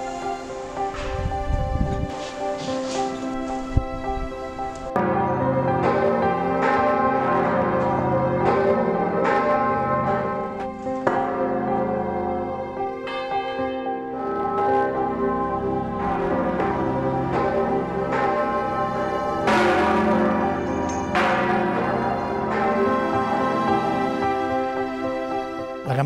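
Hand-rung church bells clang in overlapping, uneven strikes, pealing continuously and loudly with long ringing tails, wind rustling faintly behind them.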